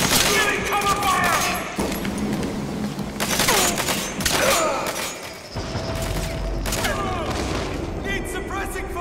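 Gunfire in Metal Gear Solid V: loud, dense bursts of automatic fire and booming shots run through the whole stretch, with some mechanical clatter and voices shouting underneath.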